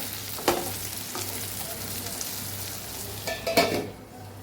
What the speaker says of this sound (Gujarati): વચ્ચે વચ્ચે આપણે આમ હલાવતા રહીશું ફેરવતા રહીશું એટલે બધી સાઈડથી આપણા ગુંદા સરસ પાકી જાય